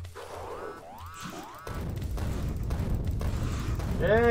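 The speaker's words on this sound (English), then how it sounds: "Yeah, just keep throwing grenades." Grenades exploding in the video game Factorio: after a few springy metallic tones, a heavy rumbling burst of blasts swells and builds toward the end, loud and close.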